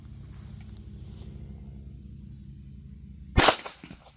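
A single sharp pistol shot of .380 ACP Hornady Black 90-grain ammunition cracks out near the end, fired over a chronograph after a few seconds of low background rumble.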